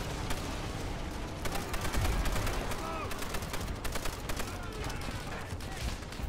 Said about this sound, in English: I'm getting shot at by the machine gun tower or something.